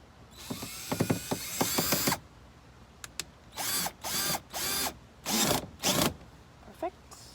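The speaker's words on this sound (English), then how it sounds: "And you're just gonna screw it back in." A screw is driven back into a Honda Civic bumper during a quick-release bumper install: a run of ratcheting clicks, then several short whirring bursts of a driver close up, with a person speaking at moments.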